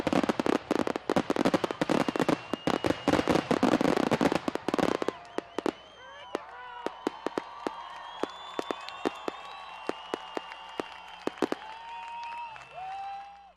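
Consumer fireworks set off by the public at a Pahrump, Nye County launch site over Independence Day weekend, dense rapid crackling bursts at first, then scattered sharp pops and whistling fizzes at a distance.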